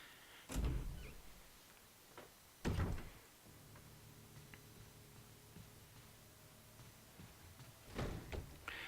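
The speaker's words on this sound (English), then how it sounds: "And that zombie still wants to come through the door." A zombie bangs at a door in the Resident Evil HD mansion, with a few heavy, separate thumps spaced out over quiet background game ambience.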